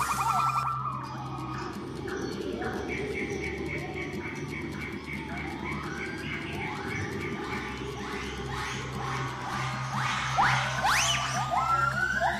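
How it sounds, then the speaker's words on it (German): A gibbon in a Vietnamese forest gives its love-song call, a string of rising, siren-like whoops that build louder toward the end over a steady hum of insects. "Das hört sich an wie eine Alarmanlage, ist aber ein Liebeslied. Und zwar das von einem Gibbon."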